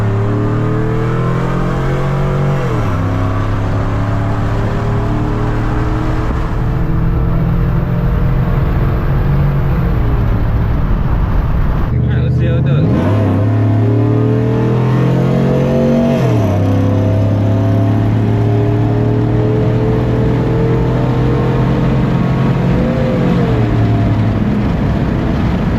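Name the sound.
6.0L LY6-swapped Chevrolet Silverado truck accelerating, cam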